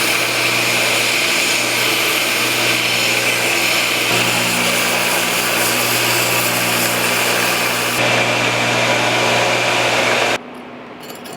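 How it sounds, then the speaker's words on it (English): A belt grinder shaping the profile of a forged integral bushcraft knife runs loud and steady for about ten seconds, a continuous grinding whine with a humming motor underneath, then cuts off abruptly into a quieter room tone. "we're going to go over to the grinders, we're going to grind the profile"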